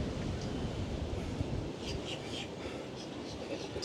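Steady, blustery wind roars across the microphone on a fishing pier with constant low rumble and gusty buffeting, a few faint murmurs and clicks in the background.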